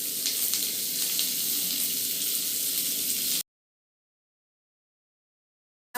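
Onions frying in hot oil in a pan give a loud, dense, steady hiss that runs unbroken for about three and a half seconds, then cuts off into silence.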